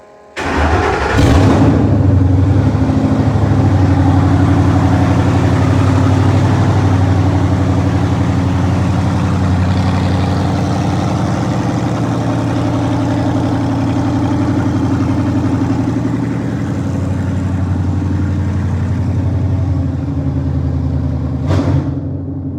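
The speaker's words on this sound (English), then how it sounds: "Of course, we don't have any exhaust on it at all, so it's pretty loud, just open headers." Loud car engine with no exhaust, running straight through open headers, roars to life after a brief starter crank and keeps a rough, throbbing idle close by for about twenty seconds before a sharp click at the end.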